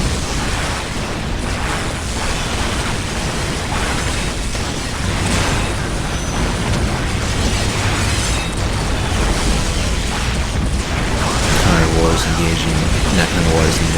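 Battle explosions and missile launcher fire in the real-time strategy game Dawn of War Dark Crusade, with battlesuits attacking a destroyer: a dense, continuous wash of bursts and booms throughout.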